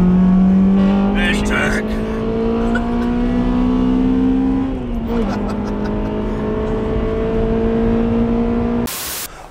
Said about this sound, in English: Do you prefer the sound of the Civic Type R?